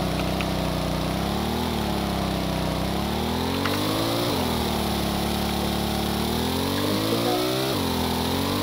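Small combat boat engine at full throttle in Stormworks, a steady buzzing drone whose pitch rises and dips repeatedly as the hull rides over big waves, continuous and moderately loud with no talking.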